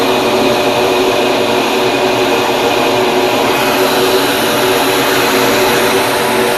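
A flow bench draws air at 300 CFM through an AEM Cobalt SS intake, producing a loud, steady broadband roar and whoosh of rushing air that holds constant throughout with no talk.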